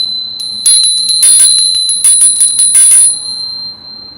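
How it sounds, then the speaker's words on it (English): A bright bicycle-style bell rung as a greeting, a quick burst of repeated rings with a sustained high metallic tone, loud and close with no talking. "Let's give you a bell."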